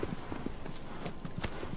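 Hooves of a horse clip-clop in a steady galloping rhythm in the video game Shadow of the Colossus, moderately loud and close throughout, with no voices over it.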